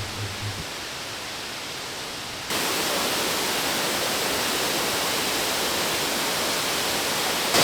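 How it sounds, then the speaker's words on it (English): A large waterfall in the wild Dominican roars as steady, dense broadband rushing water, quieter at first and then suddenly much louder and closer from the midpoint onward, with no voices. "It is a hell of a waterfall."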